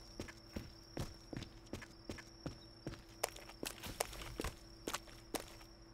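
Footsteps in the survival game The Forest, a steady run of distinct thudding steps about twice a second with a sharp, close, slightly clopping character over a low droning ambient hum, with no talk.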